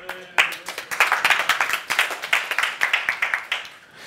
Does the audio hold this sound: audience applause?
yes